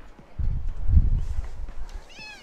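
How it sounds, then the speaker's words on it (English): A house cat meows at a closed door, giving one short, faint meow near the end over low rumbling room noise and soft thumps. "She likes to sit outside my door, meow."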